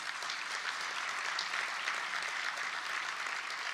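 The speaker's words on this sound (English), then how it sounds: "Give them a big round of applause, please." A large audience at a formal awards gala celebrating the BE 100s 45th anniversary applauds steadily, a dense, even wash of clapping that holds for the whole stretch with no voices over it.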